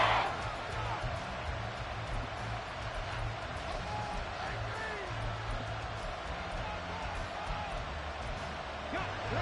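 Stadium crowd roar in a football video game, a steady dense wash of cheering that swells under continuous play-by-play commentary, filling the scene at a constant loud level.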